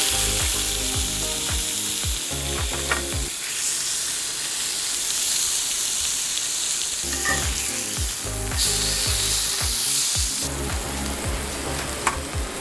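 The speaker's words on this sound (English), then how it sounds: "the first thing I'm gonna do is searing the steak" Kobe wagyu steak searing in a hot pan, a loud steady sizzle broken by a hissing burst midway and recurring metallic scrapes and knocks of handling, heard up close without talk.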